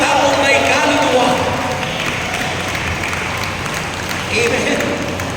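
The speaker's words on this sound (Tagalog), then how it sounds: "Lalo na kung malakas ang palakpak niyan, naku, yan yung mga taong may kaluluwa" A church congregation claps together, the applause dense and continuous at first and then thinning, with voices audible over it.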